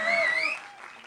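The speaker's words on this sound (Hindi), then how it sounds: "सबसे पहले तो इसके लिए तालियां होनी चाहिए" An audience applauds at a Bollywood song event, brief clapping that fades quickly while a voice speaks over it.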